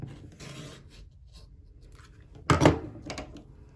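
Rotary cutter slicing through quilt fabric along a ruler on a cutting mat, a soft scraping run followed by a louder, sharper cut near the end, close up with no talk.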